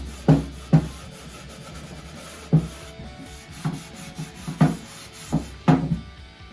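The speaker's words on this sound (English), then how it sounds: "just put the stain on the rag and rub away" A rag wet with oil-based wood stain rubs across bare wood in short, scratchy, irregular strokes, close and fairly quiet with small pauses between passes.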